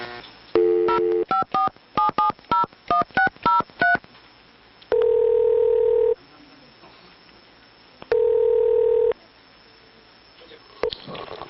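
Touch-tone telephone keypad dialing a number, a quick run of about a dozen short beeps followed by two longer steady ringback-style tones separated by silence, clear and close.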